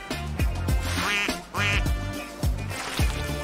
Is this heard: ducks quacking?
yes